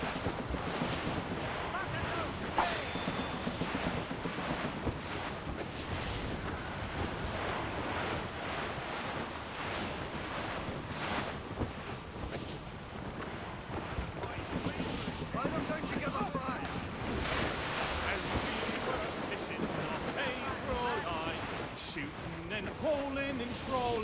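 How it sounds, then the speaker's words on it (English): A stormy sea in the video game Assassin's Creed Rogue: roaring wind and crashing waves surge around a sailing ship, loud and unbroken throughout, with voices talking underneath. "Careful! It's quite a rough squall"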